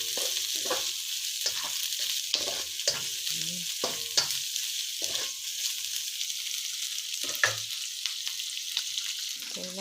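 Shrimp stir-fried in a pan for sinangag (garlic fried rice), a steady sizzle and crackle of frying running throughout, punctuated by repeated scraping and clacking stirs of a spatula against the pan, close and fairly loud with no talking.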